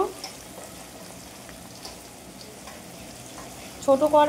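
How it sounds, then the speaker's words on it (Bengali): Potatoes fry in oil in a village kitchen, a faint, low, continuous sizzle with a few soft knocks, followed by a brief burst of louder sound at the very end. "এবারে আলুটা ভেজে নেবে"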